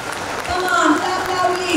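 Audience at an Independence Day celebration clapping, a short burst of steady applause with a voice speaking over it.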